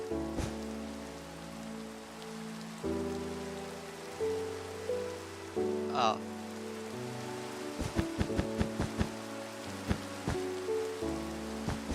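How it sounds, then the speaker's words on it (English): Steady rain falls in the Minecraft video game, a soft continuous patter laid over looping background music, with a brief exclamation and a run of sharp clicks and taps near the end. "I like the texture of the rain."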